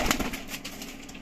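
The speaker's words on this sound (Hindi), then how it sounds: "ये टोटल 12 कबूतर लाल आंखों की लाट है" Red-eyed pigeons in a loft of twelve give a soft wing flutter and faint cooing close by, brief and low against steady background hiss with no talk.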